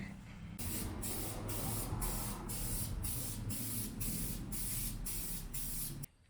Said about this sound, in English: spray this valve cover in this primer